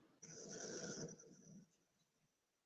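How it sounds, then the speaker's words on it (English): A strange, snore-like breathing noise rasps for about a second and a half inside Newhaven Fort, a faint, hoarse exhalation that trails off into near silence. "I'm hearing a very strange sort of breathing noise"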